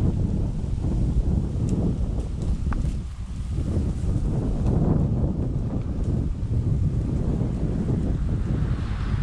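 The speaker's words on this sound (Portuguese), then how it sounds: "Olha o vento, pessoal. Começou agora." Wind gusts over the Mogi Guaçu river during a fishing outing, a steady low rumble buffeting the microphone throughout, close and fairly loud, with no voices.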